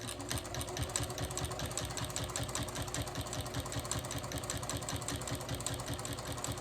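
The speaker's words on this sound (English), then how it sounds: "And I'm just sewing right along at that 1/4 inch seam." A domestic sewing machine runs steadily, stitching quilt binding along a quarter-inch seam, its rapid needle clatter forming a continuous, even mechanical rhythm close by, with no voices.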